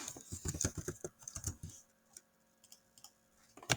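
Quick bursts of key clicks from a computer keyboard, a fast flurry of typing followed by a few sparse taps and a pause, recorded close and quiet with no talking.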